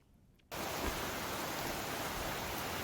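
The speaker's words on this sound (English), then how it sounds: "It will not stop raining." Heavy, steady rain on an off day by a swollen river near Lake Norfork pours down in a dense, even hiss that starts abruptly and stays loud throughout.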